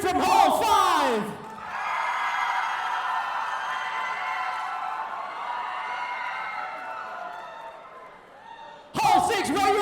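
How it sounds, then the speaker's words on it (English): A live audience at a university hall event cheers and screams in a sustained roar. A host's voice is heard briefly at the start and again at the end. "Hall 7, can I hear you scream?"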